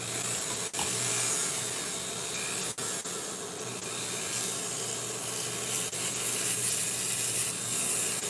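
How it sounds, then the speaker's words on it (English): An electric nail drill fitted with a sanding band files acrylic nails during a refill, giving a steady close whirring hiss with gritty rubbing texture and a few brief pauses. "now I'm using Trinh Solo sanding band"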